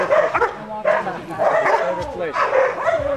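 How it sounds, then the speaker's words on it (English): A young Doberman Pinscher barks and yips in a rapid, excited series close by, the calls mixed with whimpering tones and overlapping human talk during an outdoor training day. "It's a beautiful Doberman."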